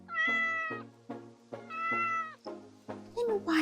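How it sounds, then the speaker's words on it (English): A cat meows repeatedly in a barn setting, several clear, drawn-out meows in a row, close and fairly loud. "It's a kitty cat."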